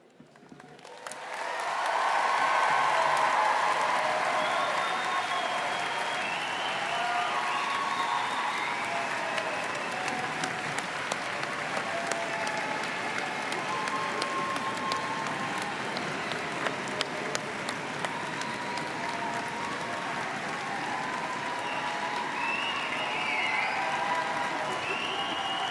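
An audience at a Mount Royal University convocation ceremony bursts into sustained, dense applause that builds quickly and holds steady for over twenty seconds, with scattered cheers mixed in.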